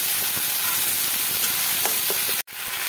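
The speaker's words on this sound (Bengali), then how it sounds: "এবারে মিডিয়াম ফ্লেমে রেখে মশলাটাকে আমি কষাতে থাকবো।" Ginger, onion, garlic, tomato and green chilli masala hisses and sizzles steadily on a medium flame for a potol and potato curry, a close, even crackle that briefly cuts out before resuming, with no voices.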